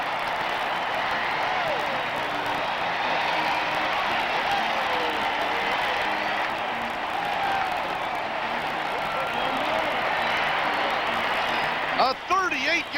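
A stadium crowd at a 1980 Oilers vs. Chiefs football game roars steadily after a Kansas City touchdown, a broad, sustained wash of cheering with a few louder bursts near the end.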